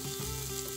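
Bacon sizzling in a hot pan: a short burst of dense, close frying crackle with a steady hum underneath.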